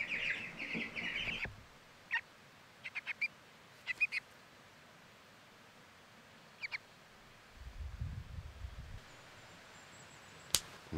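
A chicken raised in the Rocky Mountains pecks at a camera, giving a few short sharp taps spread across a quiet outdoor scene, with some low rustling partway through and one louder knock near the end.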